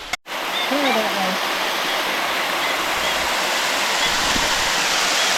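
Lovely waterfall at a very remote, primitive campground in southwest Arkansas: a steady, loud broadband rush of falling water fills the scene, briefly cut by a short dropout at the start, with faint voices in the background.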